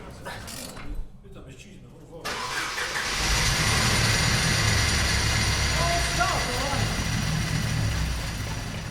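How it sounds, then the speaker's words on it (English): A van's engine straining on a frozen mountain road, its low labouring drone swelling louder after a short quiet start and holding a steady, heavy rumble close by. "Yeah, the van's definitely struggling."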